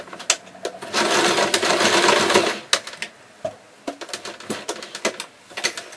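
A sewing machine stitches a few quick stitches back and forth on a puppet's elbow joint, a dense close mechanical whirr lasting about a second and a half, followed by softer scattered clicks and handling taps.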